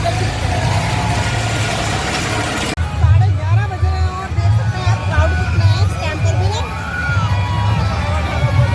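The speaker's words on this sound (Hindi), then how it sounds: "पीछे से बच्चों की शोर की आवाज़ आ गई" A dense crowd din of children shouting and screaming on fairground rides at a Ram Lila fair, loud throughout, with an engine hum underneath and people talking nearby in the second half.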